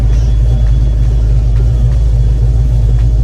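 A Ford Foxbody with a 331 stroker engine and C4 automatic transmission drives along, giving a loud, steady low engine rumble heard from close up inside the car without any talking.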